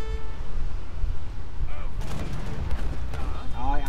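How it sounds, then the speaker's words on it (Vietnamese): Artillery fire in the real-time strategy game Age of Empires III, with booms and crackling blasts in a battle din under ongoing game noise, and bursts coming more densely in the second half. "Ở đây chúng ta lấy pháo binh mà chúng ta bắn dân luôn"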